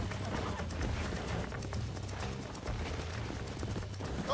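Horse hooves clip-clop in a rapid, steady gallop in the Wild West video game Red Dead Redemption, loud and continuous across the whole stretch with no voices over them.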